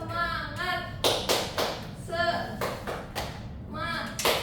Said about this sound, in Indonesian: Ibu mau ngecek semangat kalian dengan tepuk semangat